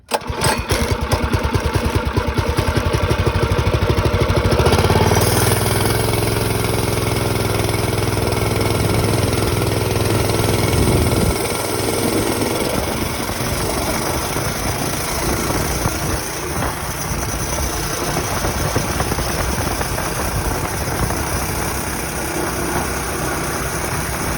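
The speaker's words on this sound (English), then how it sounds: "Let me get this bike started up and we'll see where we're at." A Predator 212 engine on a mini bike fires up with a rapid loud chugging, then settles into a steady close idle that runs on for the rest of the time.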